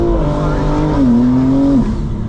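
A 900 horsepower car launches hard from a standstill, its engine roaring loud and close as the pitch climbs, holds high, then drops.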